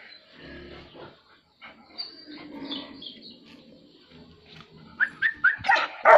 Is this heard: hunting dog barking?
yes